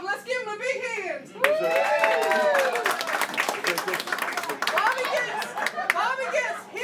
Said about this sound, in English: Let's give him a big hand.